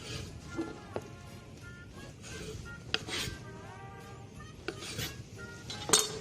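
A serrated knife saws through soft panettone into cubes on a board, producing faint, close rasping strokes with occasional light knocks and clicks from the blade and board.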